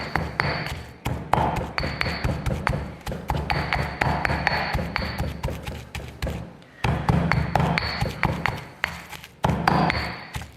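Wild garlic and cheese are pounded in a mortar, giving a steady series of sharp, regular thuds with a faint ringing tone, pausing briefly partway, with no talk.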